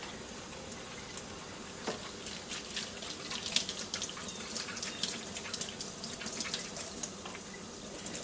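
Tap water runs steadily into a sink while a makeup brush is rinsed, a soft close splashing stream with small irregular drips and flicks, fairly quiet and without talk.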